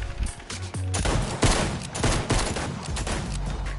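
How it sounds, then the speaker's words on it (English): Gunfire in the Fortnite Battle Royale video game rattles in rapid bursts and sharp shots, loud and close, with a busy, clattering rhythm throughout and no clear talk. "Hands up, I shot the gun!"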